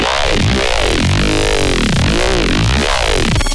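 A dubstep growl synth pushed through three OTT compressors roars with gritty, crushing aliased distortion, dense and very loud, its pitch sweeping in rhythmic vowel-like arcs without pause.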